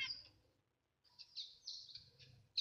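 Small pet birds such as zebra finches and canaries, including streaky-headed canaries, giving faint, high chirps and tweets in short bursts separated by a brief pause.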